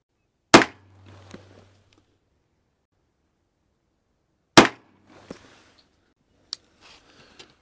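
Handgun firing Hornady Critical Defense and Critical Duty rounds during ballistic testing: two sharp, loud reports about four seconds apart, followed by fainter clicks and small knocks, with no talking.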